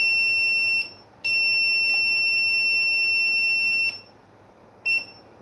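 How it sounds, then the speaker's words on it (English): Electronic press being turned down, giving a loud, steady high-pitched tonal beep that holds for several seconds with brief gaps, then a short final chirp. "that sound was the press being turned down, believe it or not"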